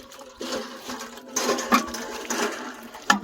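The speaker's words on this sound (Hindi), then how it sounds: "पानी भरा जा रहा है।" Water being filled at a forest hut in the Chitrakoot jungle, a gurgling, splashing pour with shifting bursts and a faint tonal hum, moderately quiet and without speech.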